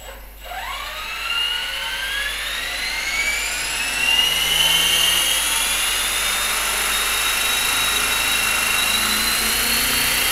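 A small homemade Mini Cylon model aircraft on its maiden flight, its electric motor whining up sharply in pitch and holding a loud, steady high buzz close by.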